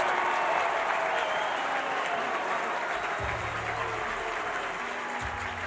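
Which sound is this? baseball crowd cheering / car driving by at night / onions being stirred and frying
baseball crowd cheering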